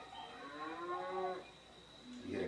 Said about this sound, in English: You hear the cows.